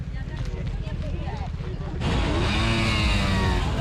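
A Simson S51 moped engine at a rally, idling with a steady low putter before pulling away, then rising into a louder, fuller drone as it rides off nearby.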